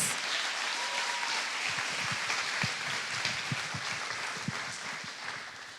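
A church congregation applauds during a New Year's Eve service, a broad sustained wash of clapping across the room with scattered louder claps nearby, holding steady throughout.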